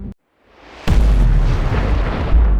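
A nuclear bomb explodes in the TV series Alien: Earth: after a brief hush, a sudden massive blast erupts into a sustained, loud, deep roaring rumble that keeps going to the end.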